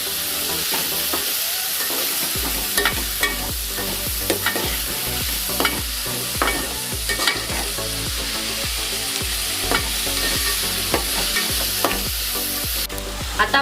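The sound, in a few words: spice mixture being stirred and sautéed in a pan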